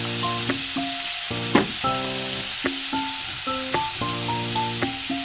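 Onion, green chili and mint leaves sautéing in a pan for green gram kurma make a steady close sizzle with occasional stirring knocks, heard alone without talk. A tonal hum recurs beneath it.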